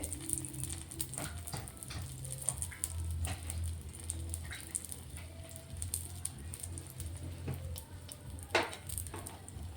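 An egg dish fries in a pan as it is carefully flipped, giving a faint, steady sizzle broken by scattered clicks and scrapes of the utensil, with no speech.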